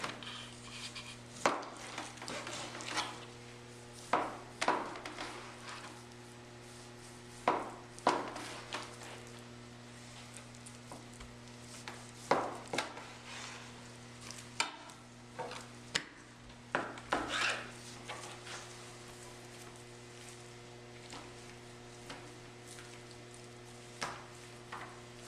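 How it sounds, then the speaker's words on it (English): A knife slices through a top sirloin on a cutting board, giving quiet, repeated cutting and scraping strokes at a steady pace, with no talking. "And we're going to come in here and start cutting our steaks."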